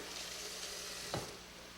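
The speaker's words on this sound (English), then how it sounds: "Let me check on this little saute here." A small sauté sizzles quietly in a pan, a faint, even hiss with one brief clink of a utensil partway through.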